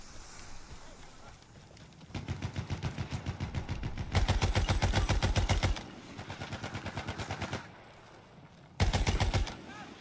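Rapid automatic gunfire in the Battlefield 1 video game comes in several sustained bursts separated by short pauses, the later bursts louder and closer.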